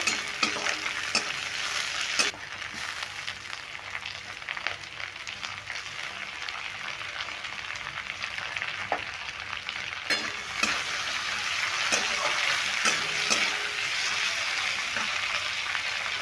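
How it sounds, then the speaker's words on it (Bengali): Chopped onion with tempering spices frying in a pan for a curry of steamed egg fritters with potato, a steady close sizzle with occasional stirring scrapes, no voices. "এটা ফোড়নটা খুব ভালো করে পেঁয়াজের সঙ্গে ভেজে নেব"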